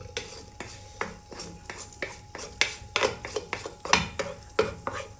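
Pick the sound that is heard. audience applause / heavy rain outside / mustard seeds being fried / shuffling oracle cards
mustard seeds being fried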